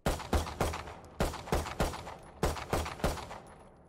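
A pistol in a video game fires in quick, sharp shots, in evenly paced bursts of two or three, loud and close with no talk.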